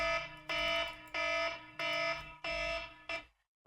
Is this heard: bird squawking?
no